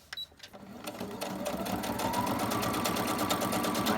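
Sewing machine running a straight stitch around a vintage postcard piece, starting with a few short bursts then settling into a steady, fast, continuous motor whir and needle chatter, close and alone.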